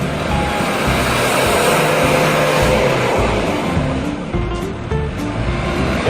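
Close and loud, a car engine revs hard as the accelerator is pressed during an inspection test after fitting an emissions-reduction and power-boost device, a broad rising roar that holds steady for several seconds.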